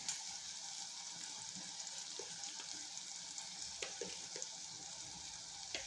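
Spices and turmeric sizzle steadily in hot oil, a continuous close crackle with scattered small pops and no voices.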